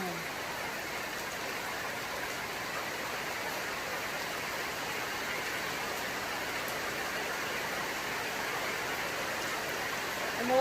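Heavy early-morning rain pours at 5:30 am in a steady, dense hiss that stays even and loud throughout, with no break.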